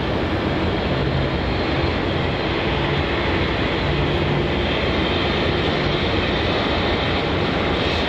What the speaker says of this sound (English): Like the Qantas Dreamliner is doing the famous Melbourne Airport back taxi